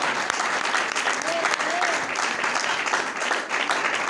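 A church congregation at a Palm Sunday service applauds, a broad, even wash of clapping that holds steady throughout with faint voices beneath.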